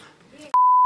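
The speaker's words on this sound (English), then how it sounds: "We'll put a beep over that one" A loud, pure censorship beep cuts in abruptly after a moment of quiet speech and holds steady to the end, masking a spoken word on an Aussie rules football chat show.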